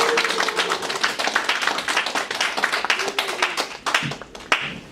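Audience applause welcoming a lecturer to the front at a company lecture, a dense run of individual claps from a seated group, fairly close and steady, thinning out toward the end.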